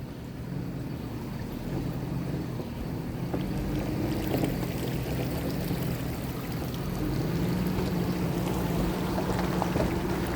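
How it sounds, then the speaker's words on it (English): Shallow creek water flows steadily at a homestead in early June, a continuous close burbling rush that holds even and unbroken throughout, with no voices. "But flowing water nonetheless."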